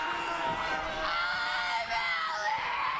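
A female wrestler lets out long, shrill screams during an IMPACT Knockouts Championship match against Taya Valkyrie, loud and sustained over steady arena crowd noise.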